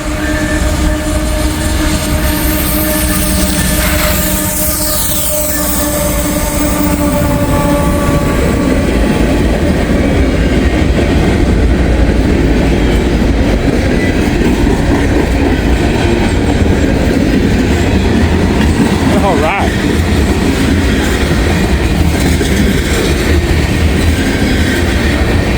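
A Union Pacific train with an air leak rolls past close by, a loud, continuous rumble and clatter of wheels on rail that lasts throughout, with no voices.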